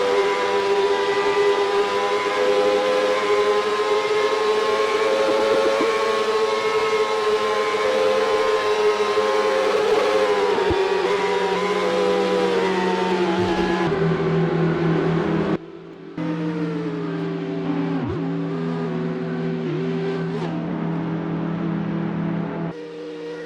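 Onboard a Panther Racing number 4 IRL race car, the engine screams at a high, sustained pitch that shifts and dips briefly during gear changes, loud and continuous throughout.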